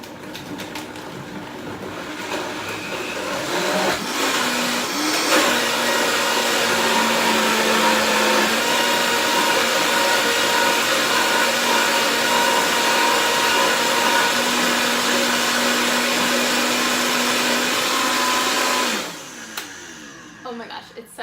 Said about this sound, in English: when I use the Vitamix, I love using this thing to push down